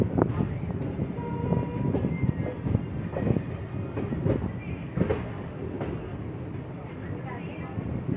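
A passenger train on the Ahmedabad to Rajkot line rolls into Wankaner Junction station with continuous close rumble and rhythmic wheel clatter, punctuated by sharp clanks from the carriages, while a voice speaks over it.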